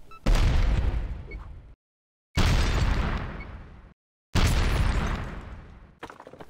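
C4 charges detonate in the video game Monster Crush, three heavy booming explosions spaced about two seconds apart, each decaying into a rumbling tail before cutting to silence.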